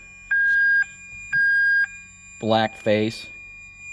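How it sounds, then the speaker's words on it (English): A Ferrari 360 alarm beeps with its hood open, sounding two long, steady electronic tones of equal length separated by a short gap, followed by someone speaking nearby. "we're getting that alarm because we have the hood in that open"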